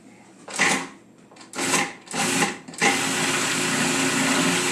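A blender whirring through a rosemary Parmesan pesto with olive oil, loud and close, starting in short pulsed bursts and then running as one continuous steady roar.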